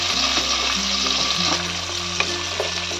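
Chopped onion and vegetables sauté in a pot for a one-pot rice dish, giving a loud, steady sizzle broken by scraping stirs and small clinks from the spoon.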